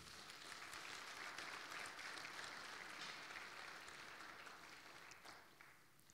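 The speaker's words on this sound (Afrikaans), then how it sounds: "Kom ons gee vir hulle 'n hande klap." An audience claps together in a sustained, dense round of applause that stays fairly even, then eases off slightly toward the end.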